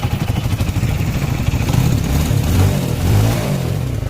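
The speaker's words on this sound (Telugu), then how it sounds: "చూడండి ఒకసారి బండికి సౌండ్ చూడండి" A TVS Victor BS3 motorcycle engine, freshly fitted with new bearings and with a damaged silencer, runs and revs up close, a loud, rough, steady putter with slight rises in pitch.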